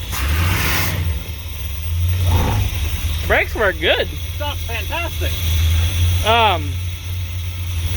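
A motorhome engine that is taking no throttle runs steadily under loud, close conversation, with its low rumble present throughout the stretch.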